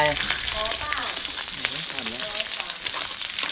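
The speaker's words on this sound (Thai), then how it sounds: "เริ่มครับใส่แกงลงไป" Curry paste hitting a hot pan for a chu chee river catfish dish, a loud continuous sizzle with stirring scrapes, close up and without talk.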